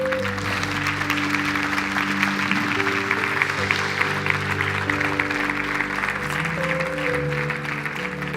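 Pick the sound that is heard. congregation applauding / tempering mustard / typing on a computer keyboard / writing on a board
congregation applauding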